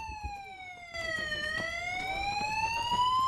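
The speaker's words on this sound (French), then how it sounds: "19h30, l'alarme se déclenche." An alarm wails at a coastal patrol base, a loud steady siren tone that dips in pitch and then slowly rises, sounding continuously with no talking.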